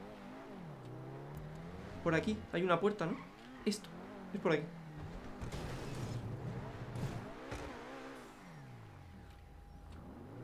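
A motorcycle engine in GTA V Online revving in rising and falling sweeps, with a few sharp throttle blips, under two people talking throughout.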